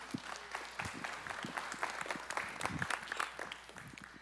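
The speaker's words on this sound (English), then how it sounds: "Let's give her a round of applause." An audience at a homeschool conference breaks into a faint, brief burst of scattered applause, dense overlapping claps heard from a distance in a hall.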